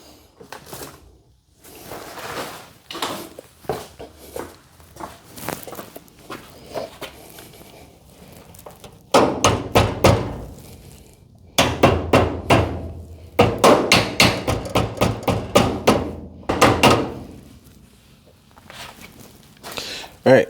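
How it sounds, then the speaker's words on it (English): Hammer strikes on a commercial garage door hinge during installation, a run of sharp metallic knocks in irregular bursts, loud and close, with quieter shuffling and handling noises between them. "There's a hammer right there."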